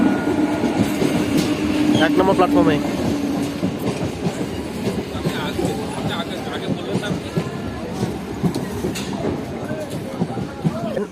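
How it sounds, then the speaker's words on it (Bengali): An ICF local passenger train on the Azimganj–Rampurhat line rumbles and clatters as it pulls away from Azimganj City station, wheels clacking steadily, with a person speaking briefly over the noise. "আজিমগঞ্জ সিটি রেলওয়ে স্টেশন ছেড়ে দিল তার নির্ধারিত সময় থেকে মাত্র 2 মিনিট লেটে"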